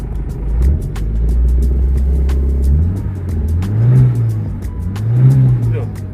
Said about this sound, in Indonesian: Kedengaran suara dengung mesinnya masih enak banget